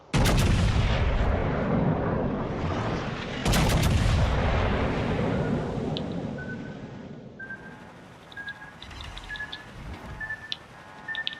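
Naval gunfire in the video game World of Warships Legends: heavy booming cannon salvos roll loud and dense, with a second big blast burst midway, then fade into quieter in-game effects and tonal beeps.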